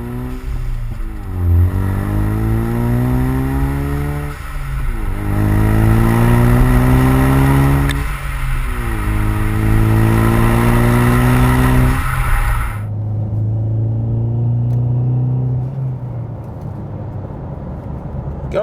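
A 2015-2023 Ford Mustang EcoBoost with a MagnaFlow Street Series cat-back exhaust accelerates hard through several gears, its deep exhaust note rising and dropping at each shift before settling into a steady cruise, loud and close.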